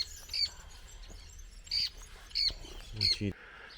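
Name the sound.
birds calling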